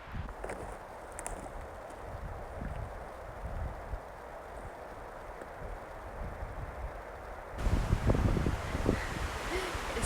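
Strong wind roars through a forest at night as a steady broadband rush with rustling, growing louder and gustier near the end, with no talk.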